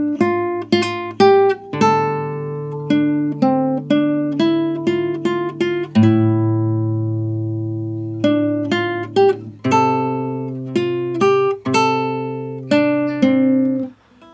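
An acoustic guitar in standard tuning plays the main theme from A Plague Tale: Requiem as a slow solo melody. Clear plucked single notes ring out one after another, with a longer sustained note midway.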